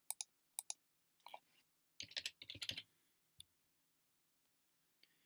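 Typing text on a computer keyboard, heard as several quiet, sharp key clicks in short bursts with pauses between them, close and alone.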